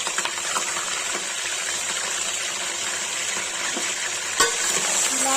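Chicken being stirred with salt in a hot frying pan gives a steady, dense sizzle with soft scraping and a sharper clink near the end, with no talking over it.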